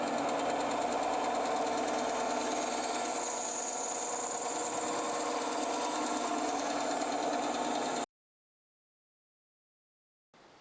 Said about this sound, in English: determine the different areas in which you want to splice the piece and then cut using a bandsaw